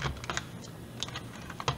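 A TC 105 fixed-blade cutter with an angle guide set to 60 degrees makes a few sharp, close clicking and snapping sounds as it cuts, in short bursts with brief pauses between them.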